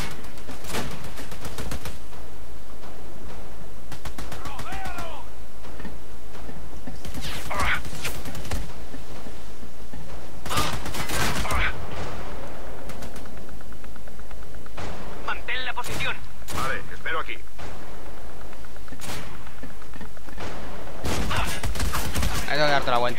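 Shotgun blasts and other gunfire ring out in the shooter game Army of Two on an aircraft carrier, loud sharp bursts spread irregularly over the stretch, with someone talking intermittently between shots.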